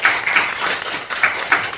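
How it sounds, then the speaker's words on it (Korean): A church congregation at a Korean Sunday worship service claps together, producing a dense, continuous patter of hands that pulses slightly in intensity. "다 함께 하나님께 영광의 박수를 올려드리십시오."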